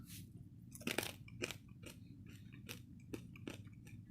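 Close, crisp crunching of someone chewing a crunchy fish snack mix, with several sharp bites and softer chews in an irregular rhythm.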